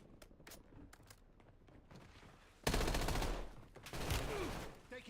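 Bursts of gunfire in the video game Warzone, with scattered single shots first, then a loud sustained automatic volley and a second heavy burst close by.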